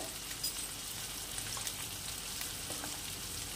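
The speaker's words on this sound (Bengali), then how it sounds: "যেহেতু মাখনে ভাজা হচ্ছে, খুব হালকা হাতে নাড়াচাড়া করতে হবে" Katla fish pieces fry in butter for a Bengali milk-based fish dish, giving a steady, even sizzle and crackle that stays close and constant throughout, with no talking.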